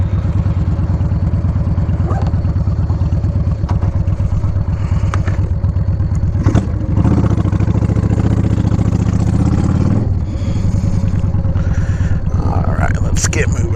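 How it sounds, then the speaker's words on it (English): A motorcycle starts and rumbles loudly at idle close by, then revs and pulls away with rising engine roar, while someone talks over it. "I'm going to get the bike started, and we're going to head out from here and just take a short ride"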